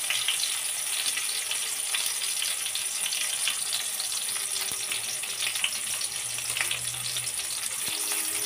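Bay leaves, cardamom and cinnamon frying in oil for a Bengali goat meat curry, a steady, close sizzle with fine crackling throughout and no talk.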